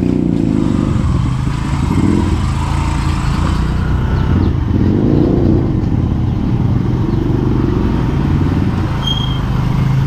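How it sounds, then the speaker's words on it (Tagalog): A motorcycle carrying a rider and a passenger cruises along with a loud, steady engine drone and road rumble up close, the throttle shifting slightly midway. "pati yung motor mo nanginginig, Kuya Gatcho"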